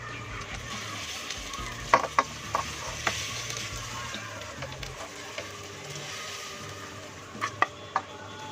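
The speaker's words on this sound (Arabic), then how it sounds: "وبكون بقى بجهز الطشة" Garlic frying for a molokhia ta'leya topping sizzles steadily and close in a pan, with a utensil stirring and occasional sharp clinks against the metal throughout.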